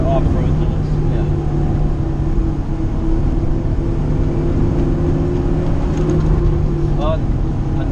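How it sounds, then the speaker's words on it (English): Inside a moving vehicle on the road, a constant loud roar of off-road tires humming on pavement fills the cabin, steady throughout with a faint tonal whine riding on top. "It's annoying, that noise. The tires. The off-road noise."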